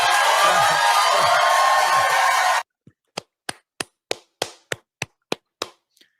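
A close audience bursts into thick, loud applause mixed with cheering, which cuts off sharply and gives way to about ten slow, separate hand claps spaced evenly apart.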